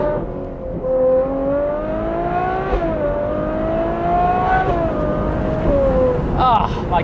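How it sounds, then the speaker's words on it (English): A Ferrari 812 GTS with its V12 engine and Novitec exhaust roars loudly through a series of downshifts, pitch stepping up with sharp blips between gears, ending in a crackle. "Listen to these downshifts."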